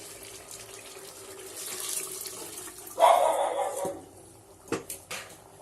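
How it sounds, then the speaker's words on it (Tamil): Water pours into a pot of biryani in a home kitchen, a rushing, splashing stream that swells in the middle and ends with a few clinks of the pot. "தண்ணி தேவையானது கொஞ்சம் கம்மியாக தான் ஊற்றுறப்பே பிரியாணிக்கு."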